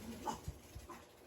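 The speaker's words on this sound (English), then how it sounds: "My dogs are antsy." Restless dogs indoors give soft, quiet panting breaths and a couple of faint whimpers, brief and low in level, with no talking.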